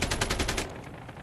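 Video game machine gun fire rattles off in a rapid burst of about six shots over half a second, then cuts to quiet.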